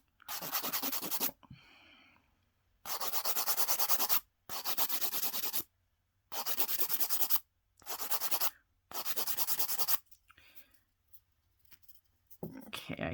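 Buffing Vrenmol poly gel nails with a file: close, dry rasping strokes in about half a dozen bursts of one to two seconds each, separated by short pauses and faint murmured speech.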